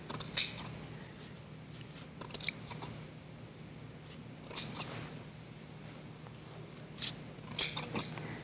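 Scissors snip through yarn for pom pom bookmarks in short clustered bursts of crisp close cuts separated by pauses, fairly quiet with no talking.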